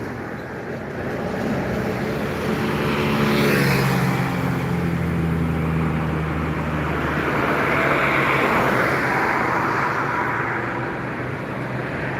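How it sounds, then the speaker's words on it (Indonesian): Buses and other vehicles passing along a highway in Indonesia, a broad steady roar of traffic swelling and fading as a heavy engine drones by nearby. "Masih menunggu bus-bus yang melintas dari Sumatera atau dari Pulau Jawa."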